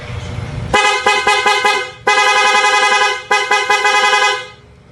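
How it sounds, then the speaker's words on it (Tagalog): Stock horn on a motorcycle, engine off, sounding in three loud, close honks: a long blast broken into quick stutters, a second sustained blast, then a third with short pulses before cutting off. "Ito yung stock horn."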